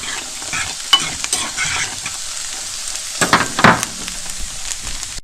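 Vegetables fry in a pan with a constant hiss of sizzling oil, punctuated by scraping stirs and sharper clinks of a utensil against the pan, close up and without speech.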